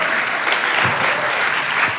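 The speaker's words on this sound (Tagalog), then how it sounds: "Yung palakpak na para sa Panginoon" A church congregation at a youth service applauds in praise, steady dense clapping from many hands filling the room without a break.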